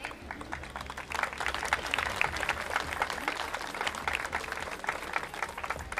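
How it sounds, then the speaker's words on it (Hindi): Audience at a police women's award ceremony applauds as a medal is presented, a dense, steady round of clapping that swells after the first second and holds loud throughout. "एक बार जोरदार तालियों के साथ मेडल प्रदान किया है।"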